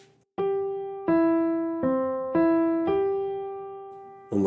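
Five ringing piano-like notes leap through major-scale chord tones, falling and then rising again in an even, unhurried rhythm, each note sustaining clearly, with a faint onset of another sound at the very end and no voice.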